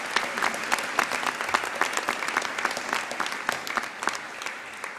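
A school hall audience at a girls' high school awards ceremony claps warmly and steadily for award recipients, a continuous patter of many hands at moderate volume.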